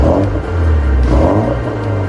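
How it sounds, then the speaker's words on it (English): A naturally aspirated 150-horsepower Porsche four-cylinder engine revs in Assetto Corsa, a loud, steady mid-range drone with slight rising and falling pulses across about two seconds. "This model had a naturally aspirated 150 horsepower 4-cylinder engine"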